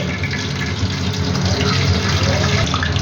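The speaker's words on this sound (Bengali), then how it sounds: "এবার আমি কড়াতে তেল দিয়ে দিলাম।" Cooking oil is poured into a wok for deep frying homemade potato French fries, making a close, steady gushing pour that runs for several seconds with a faint voice underneath.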